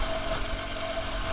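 An old, heavy motorcycle engine idles steadily at close range, a continuous low rumble with a faint tonal hum, no voices over it.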